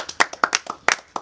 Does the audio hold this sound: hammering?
no